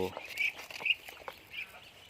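Two-month-old ducklings on a farm, just learning to eat feed, give soft quacks and peeping calls with faint pecking noises, fairly quiet and close, while someone talks over them.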